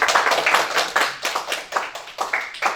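A church congregation claps in welcome for the pastor's wife, a lively burst of many hands in a quick, uneven rhythm, close and fairly loud, with no talking.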